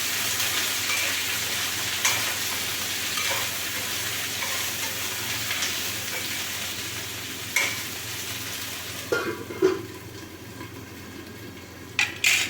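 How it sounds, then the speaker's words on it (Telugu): Okra frying in oil with turmeric and salt in a pan sizzles steadily and close, with occasional sharp clinks and stirring scrapes toward the end. "ఇప్పుడు బెండకాయ ఫ్రై చేసుకుంటాను"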